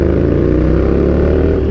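A Ducati Nightshift motorcycle fitted with a loud ORION exhaust idles and rumbles close by, a steady deep throbbing engine note with no voices.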